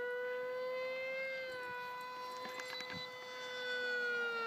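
Homebuilt model speed airplane flying overhead, its motor a sustained high whine with strong harmonics that bends slightly in pitch as it passes, fairly faint and distant with no talk.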